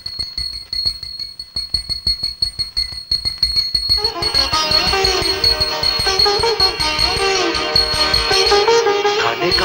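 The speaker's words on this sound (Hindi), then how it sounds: "हाय, खाने की घंटी।" A meal bell rings in a film scene, first as sparse repeated strikes, then with dense, overlapping music-like ringing tones. The sound is loud and close, with some voices present.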